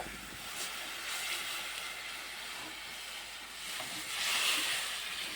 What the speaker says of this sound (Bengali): এবার আমি তরকারিটা ঢেলে দেবো কড়ার মধ্যে